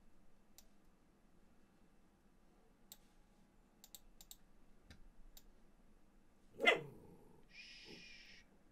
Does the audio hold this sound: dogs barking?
yes